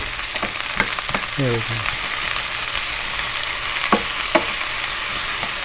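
Vegetables sizzle in olive oil in a pan for a stir fry, a steady close frying hiss with occasional utensil clinks and stirring scrapes, while a voice speaks briefly.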